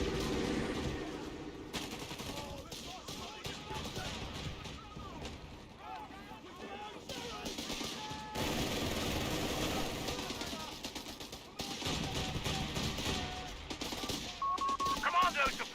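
Rapid bursts of machine gun fire from a repositioning MG team in the real-time strategy game Company of Heroes 3, rattling amid battle noise and explosions, with commentary talking over it throughout.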